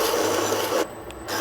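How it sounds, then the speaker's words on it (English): A 2x72 belt grinder set up as a vertical surface grinder rasps loudly against metal for under a second, then cuts off, leaving a quieter motor whine before the grinding noise returns. "So I'm going to quickly grind up in this."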